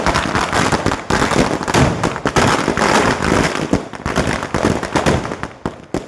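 Firecrackers burst in a rapid, dense string at a UDF political victory celebration in Elanad town after a new state government was sworn in, with loud overlapping cracks and pops continuing without pause.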